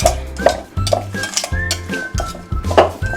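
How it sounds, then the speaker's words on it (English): A bowl of fish fillet and spices, black pepper, onion powder and smoked paprika, being stirred with a utensil, clinking against the dish in a steady repeated rhythm, close and fairly loud. "now you want to give it a good stir"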